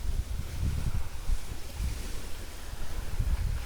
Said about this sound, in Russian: погода такая, что сильный ветер.